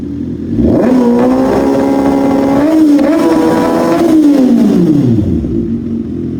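A Kawasaki ZX-6R sport bike is started and revved hard up close, the engine note swelling to a high sustained scream before falling back to idle; no talking.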